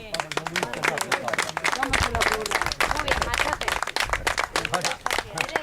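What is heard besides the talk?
group clapping applause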